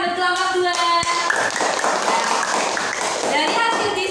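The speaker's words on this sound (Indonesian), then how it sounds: "Ya, tepuk tangan buat kelompok 2." Elementary pupils in a classroom clap for a group, a patter of scattered hand claps and taps mixed with children's voices and movement nearby.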